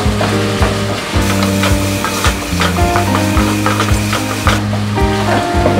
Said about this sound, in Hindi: एक 2 मिनट तक हम सॉसेज के साथ भूनेंगे इसको।